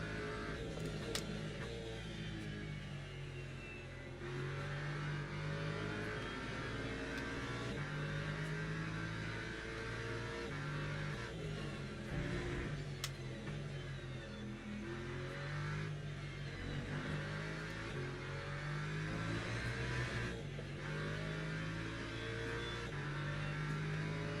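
Race cars in the video game Le Mans Ultimate, including Porsches, give a continuous engine drone with rising and falling revs and gear changes throughout.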